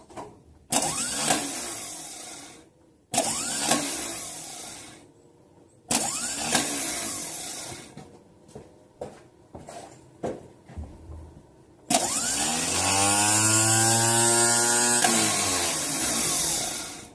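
A Chevy starter motor, removed from the vehicle and run on a bench, spins up in several separate bursts: short whirring runs with pauses between them, then a longer, louder whine that rises and falls in pitch. Close by and heard alone.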